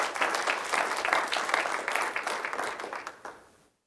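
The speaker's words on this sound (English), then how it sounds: "can you give the Lord a hand clap of praise?" Congregation at a Bible study on Mark clapping hands in praise, a lively burst of many hands with rhythmic accents that gradually thins and fades out at the end.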